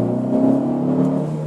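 A Fiat 500X with the 140 hp MultiAir petrol engine accelerating, a steady close engine drone with a rising tonal whir held through the run, no voices over it.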